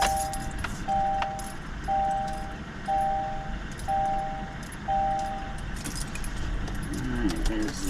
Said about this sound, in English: there's the old key. Here's the new key.